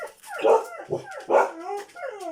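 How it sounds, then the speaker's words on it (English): A pet dog barks and whimpers close by indoors, several short yelping calls in an uneven rhythm with whiny tails between them, loud and alone with no talk. "sorry about that, that's my dog"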